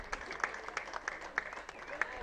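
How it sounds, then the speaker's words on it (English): Audience applause at a golf event, a steady patter of many hands clapping at moderate distance with irregular sharper claps, while voices murmur faintly underneath. "this needs a bigger round of applause"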